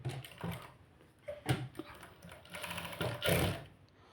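A sewing machine stitches blouse sleeves in short bursts of rapid mechanical whirring and clatter, close up, separated by brief pauses, with no talking.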